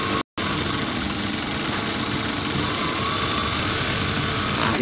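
A high-speed sewing machine runs with its pedal held half down, giving a steady, continuous motor whir at a constant pace, close and moderately loud, with no talking.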